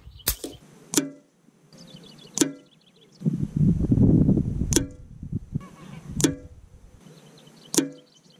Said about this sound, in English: And the geese are kicking off, as per usual.